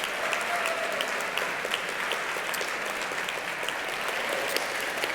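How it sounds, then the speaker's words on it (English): Steady applause from an audience at an awards ceremony, a dense, even patter of clapping that holds for several seconds at moderate loudness with no talking over it. "Let's give a round of applause for the mural and the team behind it."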